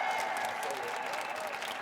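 An audience at a talk on ending poverty bursts into brief, steady applause, with dense clapping filling the short moment.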